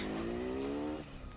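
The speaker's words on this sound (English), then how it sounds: "that Kawasaki sound? Accurate." Kawasaki motorcycle engine in a Halloween Ends film scene, a loud close engine tone climbing steadily in pitch for about a second before dropping away, alone without talk.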